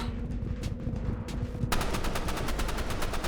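Rapid automatic gunfire from the Roblox Rivals shooting game erupts midway, a quick rattle of repeated shots over a steady bed of game noise, loud and close.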